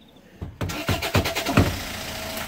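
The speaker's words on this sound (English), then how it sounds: "You just smacked the underside of the car and now it's working." Car engine cranking and catching after a stuck fuel pump frees up, a quick series of rhythmic starter turns building into a running engine that settles toward idle, close and clear.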